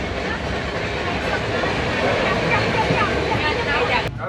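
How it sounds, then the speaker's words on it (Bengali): Bibhuti Express travelling at speed, around 84 km/h, heard from inside as a dense, loud rushing rumble with rattling carriage noise and faint voices in the background. "বিভূতি এক্সপ্রেসের অ্যাভারেজ স্পিড 55 কিলোমিটার হলেও এখন কিন্তু বেশ স্পিডে চলছে।"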